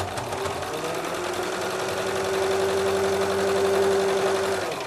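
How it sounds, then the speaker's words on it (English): A sewing machine stitches a double diamond quilt block with a steady close whirring hum and a rapid needle chatter that rises slightly in pitch and loudness midway, then runs on evenly to the end. "And then sew just below the V, and then when you get through there, lay your needle down"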